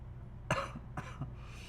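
A person coughs two or three times, close by, over a steady low hum.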